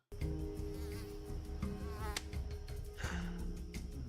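Mosquitoes whine close by, a thin wavering drone with a louder pass partway through, steady over background hum.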